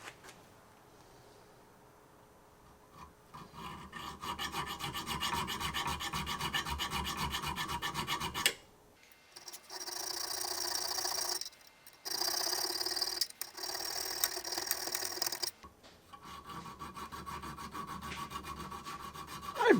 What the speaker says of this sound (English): I'll get that filed and cleaned up.